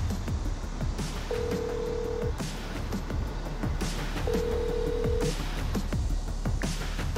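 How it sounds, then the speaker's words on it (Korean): A mobile phone calls a recently changed number, giving two long steady ringback tones, each about a second, evenly spaced over a constant low background hum, with no voices. "대표가 최근에 바꿨다는 휴대전화 번호로도 연락해봤습니다"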